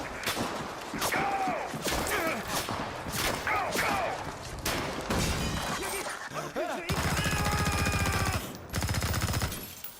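Video game trailer gunfire with rapid automatic bursts, heavy single shots and sharp cracks, loud and close in a busy action mix, with voices talking over and between the shooting.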